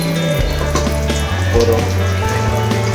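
Butter and oil poured into a pan for butter chicken, sizzling and crackling steadily and loudly up close, with a low rumbling tone running underneath.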